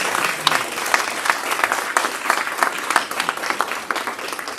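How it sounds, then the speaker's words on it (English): An audience at a panel discussion claps steadily and loudly for several seconds, a dense, even patter of many hands that stays close and fills the whole stretch. "Y'all give him another round of applause, please."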